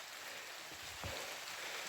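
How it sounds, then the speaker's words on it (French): Rain falls steadily on a hiking trail in a sheltered spot, a soft continuous hiss with no other sounds. "le temps a viré, il pleut"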